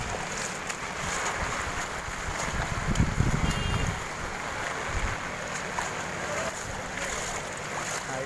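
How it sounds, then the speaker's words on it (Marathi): Rushing floodwater pours down a flooded street in Virar's Kargil Nagar during heavy rain, a steady broadband wash of water that swells briefly around the middle and stays continuous throughout, with no one talking. "पाणी उतरत आहे आणि हा पाणी एवढा येत आहे सुसाटमध्ये एकदम खाली."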